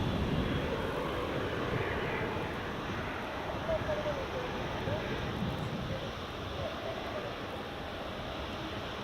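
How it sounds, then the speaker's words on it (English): A United airliner taxis at Edinburgh Airport, its engines a broad, steady roar and whine that holds at a constant level from start to finish, heard from a distance outdoors with wind noise mixed in. "there's the United taxiing"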